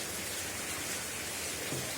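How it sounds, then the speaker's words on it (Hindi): Steady rain falls outside, a dense, even hiss of drops on surfaces that stays constant and moderately loud with no voices over it. "इतना बारिश देखिए"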